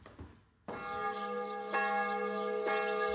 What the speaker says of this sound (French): ce ne sont pas les cloches de cette ancienne chapelle consacrée à Saint-Martin-de-Tours qui se font entendre, mais celles toutes proches de l'église de Saint-Denis-sur-Loire